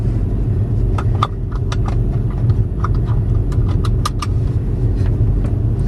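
Audi A3 TFSI car out on a road test, with a steady engine and road rumble running throughout, scattered with light clicks and rattles from inside the cabin.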